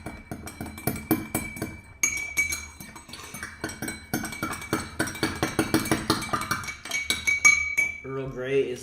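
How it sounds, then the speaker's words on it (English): Metal spoon clinking repeatedly against a cup while stirring Earl Grey tea, a quick steady series of bright taps running throughout, with brief voices and other small noises near the end. "Stir it up a little bit."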